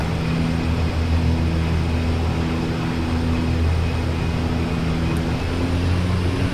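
The OV-10 Bronco's engines drone at full power on a runway in the DCS World flight simulator, a loud steady roar with a low hum that holds throughout.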